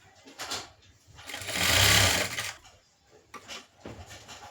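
A sewing machine runs in short bursts and one longer steady stretch while stitching around the front neckline of a blouse, close and clear with quiet pauses between runs.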